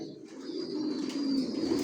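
Racer pigeons of the Johnson line, longs, coo steadily inside a loft, the low murmuring calls close and continuous with faint higher chirps over them.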